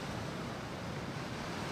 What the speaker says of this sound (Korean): 지금은 파도가 높아 수영하기는 조금 어렵겠네요